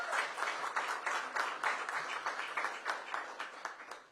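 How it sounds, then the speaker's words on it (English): Crowd applause for businesses awarded city grants, a steady dense patter of many hands clapping throughout, fairly loud and continuous with no pause. "I want to give them a big round of applause."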